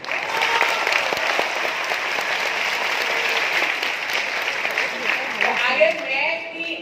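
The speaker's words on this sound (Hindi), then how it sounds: "तालियों की आवाज इतनी तेज होनी चाहिए कि दिल्ली तक जानी चाहिए" Sustained applause from a youth volunteers' convocation audience in West Bengal, dense and steady throughout, with a voice rising over the clapping near the end.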